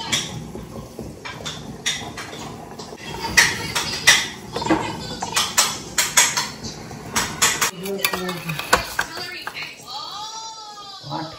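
Steel plates and cutlery clatter and scrape as Sunday lunch of rice, pumpkin greens, banana flower and chicken is served at home; sharp uneven clinks and knocks come close, with a voice talking at times and a child faintly whining near the end.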